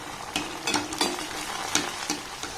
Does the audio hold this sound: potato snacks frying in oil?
yes